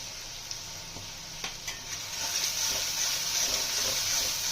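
Onions and tomatoes frying with turmeric and cumin powder for a river fish curry, a steady close sizzle that swells louder partway through, with a few faint scrapes of stirring and no talk.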